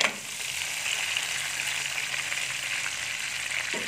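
Crab and fragrant fried garlic stir-fry in a hot pan for a tamarind crab dish, a continuous bright sizzle with faint stirring, steady and close, no talk.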